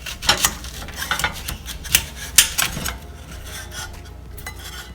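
A knife cuts an onion in half for Cuban-style pork meatballs with onions: several sharp, crisp, crunchy strokes close by in the first three seconds, then quiet.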